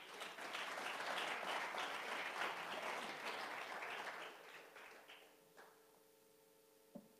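A church congregation applauds together, dense and lively clapping for about five seconds before it thins out and fades into a quiet hall with a soft tone lingering.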